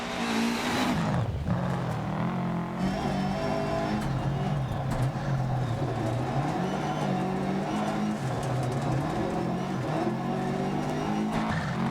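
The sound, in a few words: rally car driving Welsh stage in video game DiRT Rally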